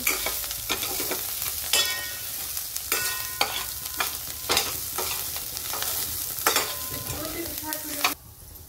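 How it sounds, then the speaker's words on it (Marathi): Safflower greens for kardai sukki bhaji are sautéed in hot oil, with a spatula scraping and clanking against the pan in an irregular rhythm over a steady close sizzle that drops away at the end. "त्याला तेलामध्ये परतून घेऊ।"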